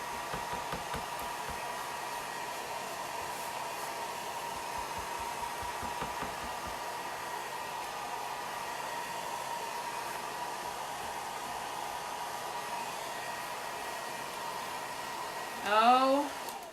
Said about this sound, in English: I'm going to use my hairdryer and heat this a little bit